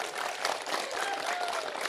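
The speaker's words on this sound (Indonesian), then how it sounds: "Beri tepuk tangan dulu yang meriah untuk Pak Anies." Steady audience applause for a politician at a farmers' Q&A event in Gorontalo, a dense wash of clapping filling the room at even loudness throughout.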